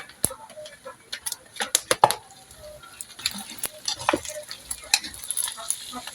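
Garlic sizzles in a frying pan as the base for a pork blood stew, with a steady crackle beneath sharp clicks and scrapes of a utensil stirring against the pan.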